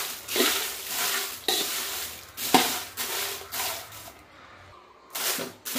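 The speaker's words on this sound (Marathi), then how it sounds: "थोडंसं आधी मिरची भाजून घेऊया, मग आपण तेल टाकूया" Red chillies dry-roasting in a pan before oil is added, for a Kolhapuri black spice masala, with repeated bursts of scraping and stirring against the pan, a soft sizzle in between, close and uneven, one brief quiet gap.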